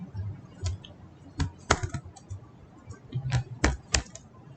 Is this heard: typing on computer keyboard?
yes